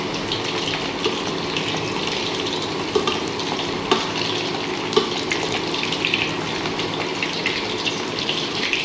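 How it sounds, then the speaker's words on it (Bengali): Village-style chicken pakoras frying in hot oil, a dense continuous sizzle with occasional soft clinks and scrapes as pieces are turned one by one, close and steady with no voices. "এবার একটু ভাজা ভাজা হচ্ছে, এগুলোকে উল্টে নেব"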